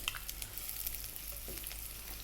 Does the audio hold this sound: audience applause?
no